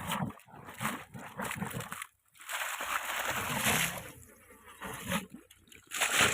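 Water gushes under pressure into a dry maize field, an uneven splashing rush that surges and drops off briefly, close and fairly loud.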